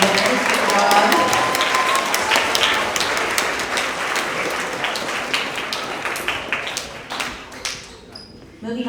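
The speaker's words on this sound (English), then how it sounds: "Another round of applause for all of our PE award winners" At a school end-of-year award assembly for grades six to eight, a crowd gives PE award winners a loud burst of applause that gradually fades to sparse claps, with some murmuring voices.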